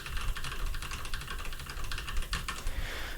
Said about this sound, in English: keyboard, you have a lot of noises that sound a bit like this.